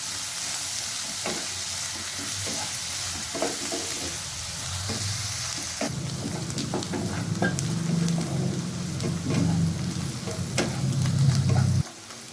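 Onions frying lightly over medium-low heat in a pan, a steady sizzle under repeated scraping stirs, growing louder and denser in the second half before stopping abruptly.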